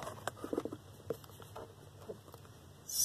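Rain patters faintly outside in light, irregular taps and drips that stay soft and scattered, ending in a brief rush of hiss.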